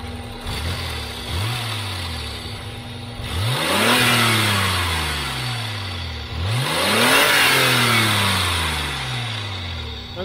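A Citroën XM V6 engine revs up twice while driving, each surge rising loudly and then easing back into a steady mid-pitched hum, with the car's running noise continuous underneath.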